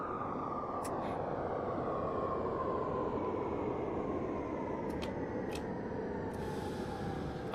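A train in the Subway Sim 2 game rolls steadily with a continuous low rumble and a faint whine, with a few sharp high clicks and squeals over the top.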